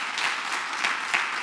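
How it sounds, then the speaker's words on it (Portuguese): Audience applause in a Portuguese-speaking gathering, a steady wash of many hands clapping at moderate distance, continuous and even with no voices over it. "Você podia dar um aplauso a ele."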